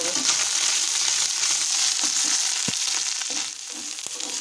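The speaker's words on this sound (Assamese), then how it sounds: "এইফালে মাছকেইটা ভাজি লওঁ" Fish fries in a hot pan with a loud, continuous crackle and sizzle. A few sharp knocks of stirring come near the end, and the level drops slightly.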